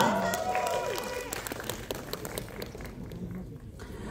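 Audience applause at an Indonesian film event for the movie Vina Sebelum 7 Hari, a dense wash of clapping and crowd noise fading slightly toward the end, with a host's voice over it.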